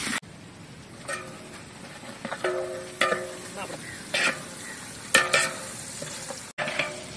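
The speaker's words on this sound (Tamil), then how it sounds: "வெங்காயம் நல்லா வதங்கிட்டு இருக்குது" Onions sauté in a pan for stingray fish biryani, a spatula knocking and scraping in spaced strokes over a soft sizzle, close and clear, with ringing metallic taps between stirs.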